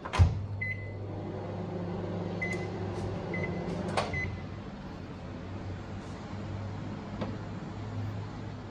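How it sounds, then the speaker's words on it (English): A microwave oven cooking scrambled eggs hums steadily with a low drone, broken by a few faint clicks and knocks. "we'll pop it back into the microwave for another 20 seconds"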